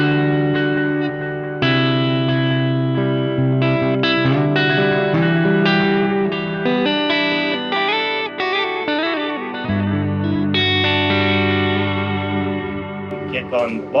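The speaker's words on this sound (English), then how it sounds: "that feeds into my dotted eighth delays here" An electric guitar plays a melodic line through a pedalboard with analog delay feeding dotted eighth delays, each note trailing rhythmic repeats into a dense, sustained wash, loud and close with no talking.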